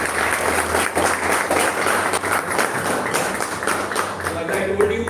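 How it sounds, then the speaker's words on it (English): An audience at a KTM 390 motorcycle launch venue in Pune breaks into steady, dense applause that carries on for several seconds, with a voice heard over it. "So can I have a round of applause for the adventure?"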